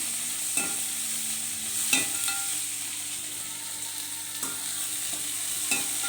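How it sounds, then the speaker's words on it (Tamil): Sliced large onions frying in a pan with a steady, close sizzle, broken by a few sharp stirring clinks and scrapes of a utensil; no voices. "அரிஞ்சு வச்சுருக்க பெரிய வெங்காயத்தை அதில் சேர்த்துடுங்க."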